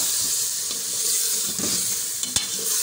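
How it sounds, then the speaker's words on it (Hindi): Desi chicken frying in a pan with chilli, coriander, cumin, turmeric and garam masala, a steady close sizzle with soft stirring scrapes and one sharp clack of utensil on pan near the end. "फ्राई कर रही हूँ"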